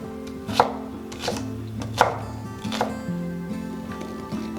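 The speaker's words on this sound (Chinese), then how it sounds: "准备50克洋葱碎" Onion being chopped with a knife on a cutting board while preparing char siu bao filling, a few slow, distinct, fairly close thunks spaced about a second apart.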